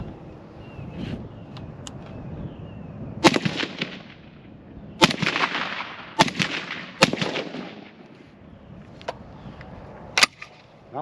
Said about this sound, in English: I can't afford to shoot a whole lot of ammo.